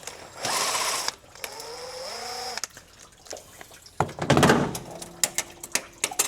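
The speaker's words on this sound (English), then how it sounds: "All right, so now I'm going to snatch this downpipe off" Work on the downpipe of a 1976 Ford F250 with a turbo small-block engine produces short mechanical bursts: a brief whir, clanks and metallic knocks, scraping and scattered clicks of parts being pulled loose.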